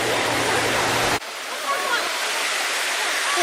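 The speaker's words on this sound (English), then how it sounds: "The waterfall." Indian Run Falls roars as a loud, steady rush of falling water that fills the scene from start to end, with a brief handling bump early on.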